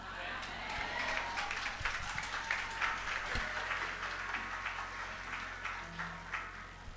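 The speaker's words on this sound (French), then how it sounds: "Nous avons l'autre applaudissement encore." Members of a Haitian church congregation clap for their pastor, a loose, moderate round of handclaps with a few sharp individual claps standing out, while murmured voices carry underneath.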